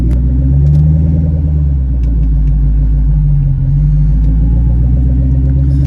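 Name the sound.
loud car exhaust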